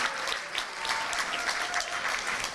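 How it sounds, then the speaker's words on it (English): A dinner crowd at a chamber of commerce awards event gives a warm round of applause, a dense, steady wash of many hands clapping at once. "Let's give him a big round of applause."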